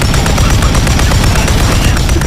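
Heavy machine gun firing in the video game Warzone 3, a dense, continuous burst of rapid shots and booms filling the whole stretch, loud and close with no speech.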